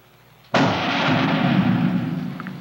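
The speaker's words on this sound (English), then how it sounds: "He fires sample bullets from each of these machines in our super accurate test barrels" A sample bullet fired from a test barrel gives one abrupt loud report after a brief quiet, followed by a long, roaring, slowly fading reverberation that lasts about two seconds.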